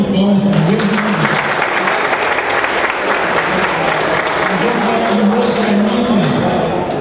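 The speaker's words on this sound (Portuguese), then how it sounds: "Então uma salva de palmas para Deus" Dense, steady applause from a gathered crowd at a birthday celebration for members' January birthdays, filling the whole stretch loudly with a low voice or tone murmuring underneath.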